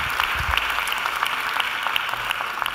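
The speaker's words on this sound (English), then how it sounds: "I think Adam deserves a great round of applause from all of us" A short burst of clapping from a crowd at a university graduation ceremony, dense and steady throughout, with no voices standing out.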